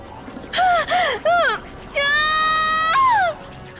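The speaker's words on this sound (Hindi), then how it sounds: "तभी उसे किन की चीख सुनाई दी" A woman's piercing horror-style scream in several rising and falling wails, short cries first and then one long sustained shriek, loud and up close.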